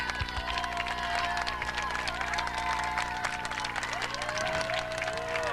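Crowd noise at a high school football game between MVCS and Terra Nova, a steady wash of cheering and applause with scattered shouts and claps, loud and continuous throughout.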